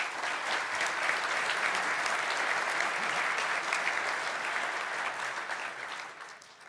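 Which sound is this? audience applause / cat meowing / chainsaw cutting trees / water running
audience applause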